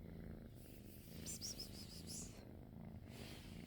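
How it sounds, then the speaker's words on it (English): A kitten purrs steadily while being brushed and cuddled, a close, continuous low rumbling hum with light brushing or rustling briefly layered over it midway. "she cuddles and purrs"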